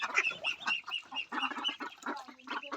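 Chickens and ducks calling close by, with rapid overlapping clucks and quacks in short irregular bursts and no talk.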